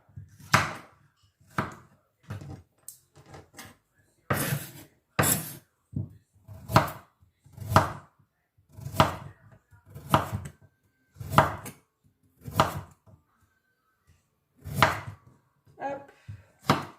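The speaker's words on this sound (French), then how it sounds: "Tout petits morceaux qu'on peut aussi de nouveau couper en deux." Knife chopping vegetables into very small pieces for a minestrone soup on a cutting board, in a steady run of sharp, close board-knocking chops with short pauses between bursts.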